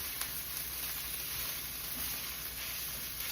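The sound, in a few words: Impossible taco filling sizzling as it cooks in the pan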